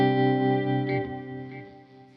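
A single sustained electric guitar note played through a delay effect, its repeats ringing and fading away over about two seconds, alone with no voices.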